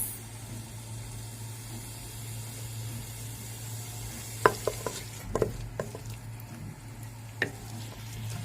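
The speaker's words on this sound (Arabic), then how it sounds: "ودلوقتي هنحط الزيت. قلي البصله هتقليها ولا يعني تدبليها؟" Chopped onion cooks in oil in a pan on a home stove. A soft, steady sizzle runs throughout, broken by a few sharp clinks and scrapes of a utensil stirring against the pan.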